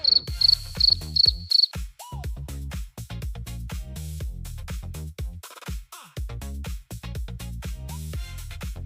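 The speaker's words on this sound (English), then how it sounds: "It's a cricket." A cricket chirps in five quick, high-pitched trills during the first couple of seconds, then falls silent as rhythmic background music carries on.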